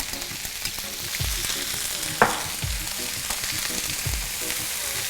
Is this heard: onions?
yes